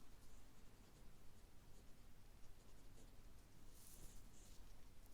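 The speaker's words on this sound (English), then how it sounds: "Now let's write 才" A pen handwriting the Chinese character 才 on paper, giving faint, continuous scratchy strokes that stay quiet and close, with no voices.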